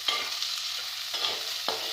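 Small shallots sizzle steadily in a pan while a spoon scrapes and stirs them in a few distinct strokes, close and clear with no voices.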